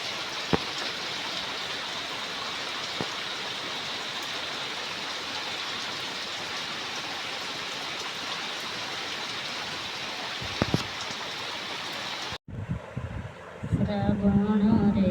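Monsoon rain pours down in a dense, steady hiss over a road flooded with water, close and unbroken for a long stretch, then cuts away to quieter sounds with voices and a few thumps.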